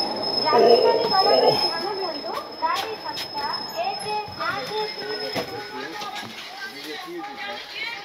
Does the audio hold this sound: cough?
no